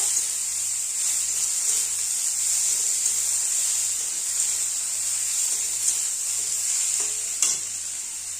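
Chopped tomatoes are stirred into a sizzling pangas fish curry in a pan, a steady close frying hiss with soft scraping strokes of a spoon, alone with no voices.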